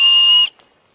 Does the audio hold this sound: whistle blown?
yes